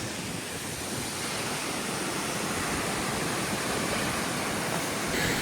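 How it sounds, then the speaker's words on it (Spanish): Loud, steady roar of a very tall waterfall in southern Chile, a dense unbroken rush of falling water filling the whole clip at close range with no voices. "Oye, qué bonita la cascada."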